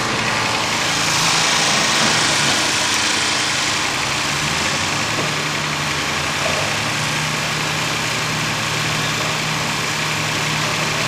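Loud, steady rumble of a heavy tractor engine idling nearby, continuous and unchanging throughout.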